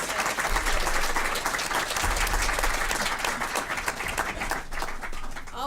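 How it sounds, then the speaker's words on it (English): Steady, loud audience applause fills the room at an academic panel on teaching, dense clapping sustained throughout with no talk over it. "I'm going to take a breath and applaud these great folks."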